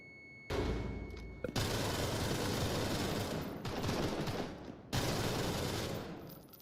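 Sustained bursts of automatic gunfire from a tactical shooter video game, loud and continuous, broken by two short pauses between volleys, with dull thuds mixed in and no talking.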